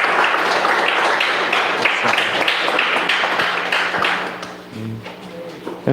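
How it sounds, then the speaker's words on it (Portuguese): A church congregation gives a round of applause for the children, a dense patter of clapping that fades after about four seconds as a voice is heard. "uma salva de palmas para nossos pequenos"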